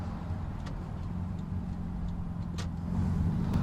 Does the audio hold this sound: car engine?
yes